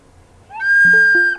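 A school recorder gives a shrill squeak as air leaks through a finger hole that isn't fully covered. A short whistling tone jumps in pitch and then settles into a sharp, piercing note lasting under a second.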